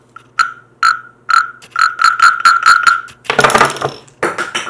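A small handmade wooden frog toy from Taiwan is played, giving a series of sharp, rasping croak-like clicks in an irregular rhythm, close and loud, followed by a brief burst of rattling scrapes and a few more clicks.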